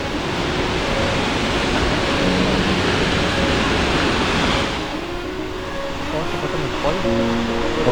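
Peričnik waterfall roars in a steady, loud broadband rush close by, continuous throughout, with faint talk beneath it.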